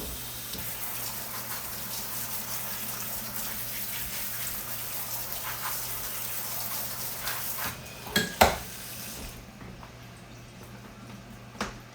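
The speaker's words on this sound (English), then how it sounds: "I'm going to rinse it a little bit with some cold water" Cold tap water runs over boiled rutabaga in a metal strainer, a steady rushing hiss with a few clanks and rattles of the strainer near the end before the flow stops.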